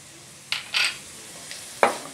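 Chopped onions and a dozen whole garlic cloves sautéing in a pan for a Tamil hotel-style fish curry, with a few short bursts of stirring and sizzling over a quiet background.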